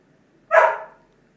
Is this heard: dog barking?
yes